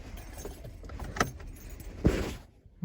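A Skoda Superb key jangles on its ring as it turns in the ignition, giving quiet close metallic clinks followed by a soft click and low rumble.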